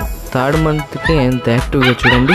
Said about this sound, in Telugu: అరుస్తుంటే ఇంకా వినాలనిపించేది అసలు ఆ అరుపులు